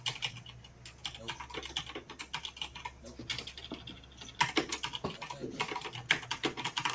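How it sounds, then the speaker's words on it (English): Loud, rapid typing on a computer keyboard, close and dense with irregular clusters of keystrokes and a steady low hum underneath, heard during a gaming stream with no talk. "who is typing? Holy crap, that's loud."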